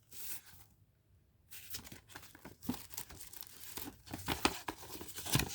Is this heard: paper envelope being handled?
yes